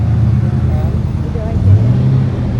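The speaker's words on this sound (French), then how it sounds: "Donc là, une Porsche 911." Porsche 911 arriving at a car gathering in Belfort, a loud, close engine rumble with rising revs, under a voice talking throughout.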